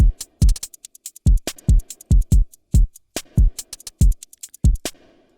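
Chorus drum pattern built from samples in Native Instruments Battery: punchy kicks and snappy hits alternate with crisp cymbal ticks in a tight, steady groove, loud and dry with no other instruments.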